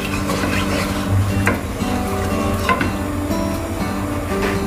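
A spatula stirs cilok with seasoning in a hot frying pan, giving a steady sizzle with repeated scraping strokes close by.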